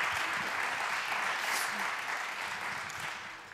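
Steady applause from an audience at a Venice 2016 talk event, a dense even wash of clapping that stays at a constant level for the whole stretch, with faint voices mixed underneath.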